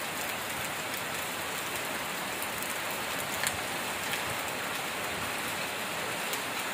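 Heavy monsoon rain falls steadily on a village, a continuous close hiss of drops with no voices, unbroken from start to finish.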